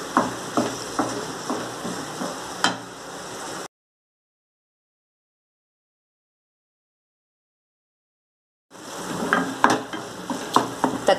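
Tomatoes frying down to a paste for egg masala, stirred in a pan, give a low sizzle with repeated spoon scrapes and taps, broken by a long silent gap before the stirring and frying return.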